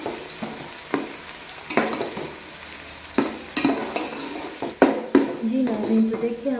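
Onions frying and browning in a pan for fish curry. Repeated scraping stir strokes come at an uneven rhythm, close by, over a soft, low sizzle.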